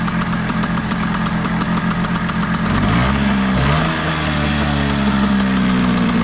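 Hangkai outboard motor running with a slight hesitation, a steady near mechanical putter that briefly stumbles and shifts pitch midway before settling back into a continuous run.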